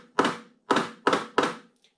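Single strokes played on a drum practice pad, four sharp taps evenly spaced with a short gap before a faint fifth touch, close and dry with no voices.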